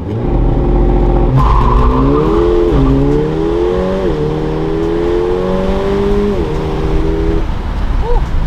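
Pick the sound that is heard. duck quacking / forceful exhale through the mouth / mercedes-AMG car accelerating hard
mercedes-AMG car accelerating hard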